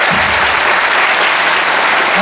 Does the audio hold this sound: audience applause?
yes